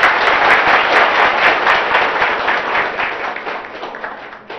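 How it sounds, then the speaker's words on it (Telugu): Loud crowd applause at an outdoor political rally in Vasalamarri village, Telangana, dense steady clapping from many hands that thins slightly toward the end, no talk over it. "చప్పట్లు కొట్టుడు కాస్తుమ్మా"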